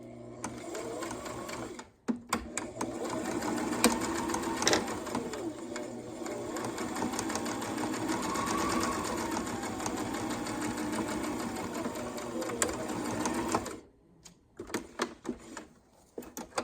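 Sewing machine stitching the top of a small baby bunny apron, a steady continuous mechanical whir running nearly the whole time, stopping briefly near the start and cutting off near the end.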